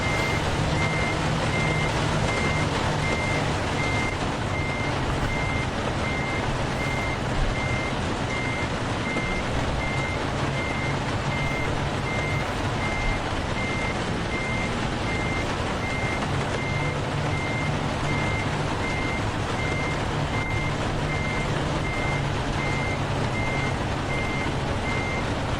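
Steady, evenly spaced reversing beeps from a truck in American Truck Simulator sound continuously over a constant engine drone, with no talk.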